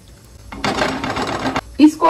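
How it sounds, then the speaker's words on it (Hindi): A glass of hot water poured into mutton keema cooking in a pan, with a short hissing, splashing burst of about a second, followed by a couple of small clinks. "1 गिलास पानी इसमें डालेंगे।"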